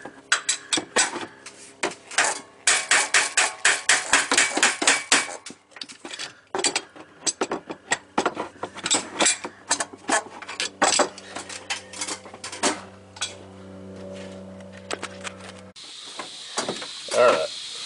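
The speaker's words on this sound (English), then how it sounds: "got the air hammer." Rapid metallic rattling and hammering bursts from an air hammer, loud and up close, on a 2015 Dodge Ram 1500 Hemi 5.7L during a water pump change, followed by a steady mechanical hum and a brief hiss.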